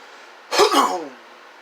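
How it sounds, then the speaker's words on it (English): A single short, rough throat clearing, close and fairly loud, lasting under a second against a quiet background. "I had to clear my throat"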